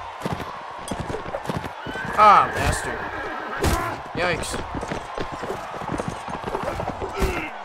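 Horse hooves clatter in a steady galloping rhythm in the video game Mount & Blade: Warband, mixed with combat noise and sharp impacts, while someone talks over the action.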